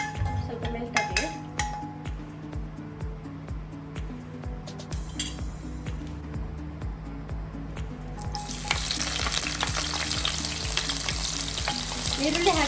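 Onions frying in ghee in a pan, a close sizzle with rhythmic stirring and clinks of a utensil against metal, the frying growing louder and hissier toward the end, no voices.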